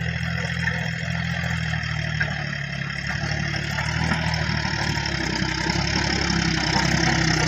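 A farm tractor's steady, low engine drone idles continuously throughout, rumbling evenly with no revving or pauses.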